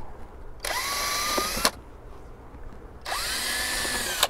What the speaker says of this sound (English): let's pre-drill two holes